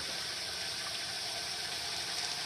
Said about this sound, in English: And then I just put water in through the little slit.